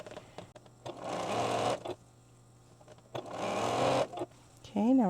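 A sewing machine stitches quilt pieces for a tessellating cat quilt in two loud, steady bursts of rapid stitching, each lasting under a second, separated by quieter pauses with faint background hum.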